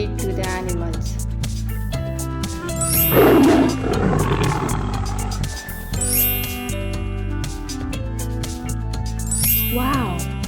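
A lion's roar from an animated children's animal-sound and feeding segment, a loud growling burst rising over steady bright background music with jingling tones, followed later by a shorter roar-like swell.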